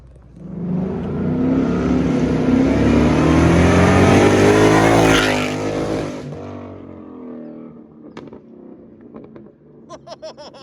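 A loud straight-piped, supercharged Whipple Mustang exhaust revs up in a long rising roar, then drops to idle with sharp crackling pops scattered near the end.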